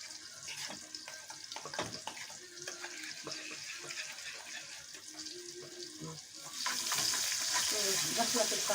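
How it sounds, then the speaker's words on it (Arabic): Taqliya topping for molokhia frying in a pan on a home stove, a continuous bubbling sizzle with occasional stirring scrapes, growing louder and brighter toward the end. "وحاطة على العين التانية التقلية بتاعت الملوخية"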